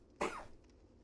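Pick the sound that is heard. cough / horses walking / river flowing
cough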